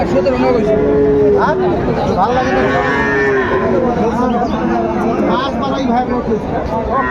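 Cattle mooing repeatedly, several long lowing calls from Sahiwal bulls and calves, over a steady crowd hubbub at a busy livestock market in Dinajpur.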